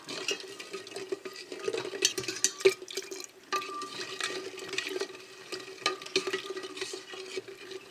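Milk thickened with rice flour gets stirred in a pan on the stove, a spoon scraping and swishing in uneven strokes with soft bubbling, close by and moderately loud, no talking.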